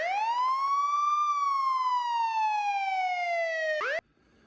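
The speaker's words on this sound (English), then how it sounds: "So I went on YouTube and got a simple siren." Simple siren sound effect: a single loud wailing tone that rises then slowly falls in pitch, close and alone, cutting off abruptly near the end.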